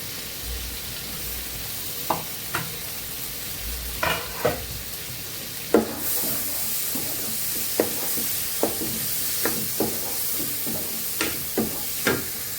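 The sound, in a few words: frying and stirring tomato, fried potato and green chilli in a pan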